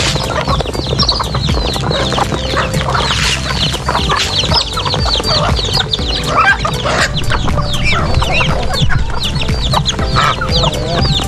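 Many native chickens, turkeys, ducks and geese cluck and chatter loudly and continuously up close at feeding time, a dense, busy flock sound with no talking.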